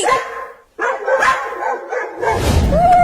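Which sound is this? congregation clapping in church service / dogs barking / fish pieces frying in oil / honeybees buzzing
dogs barking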